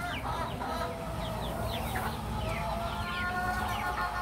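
Free-range chickens cluck and chatter continuously as a flock, with overlapping calls at a moderate distance and a steady, fairly quiet level.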